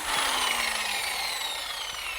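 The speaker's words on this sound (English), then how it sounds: "this is the metal conditioning tool that we use to strip all the old epoxy paint off the bottom of the boat" A metal conditioning tool fitted with a 60 grit sanding wheel grinds old epoxy paint off the bottom of a boat, giving a steady close abrasive whir with a slowly falling pitch throughout the brief stretch.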